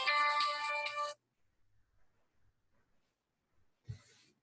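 A phone ringtone plays loudly as a bright, tonal melody for about a second, then cuts off, leaving near silence with faint rustles and a brief thump.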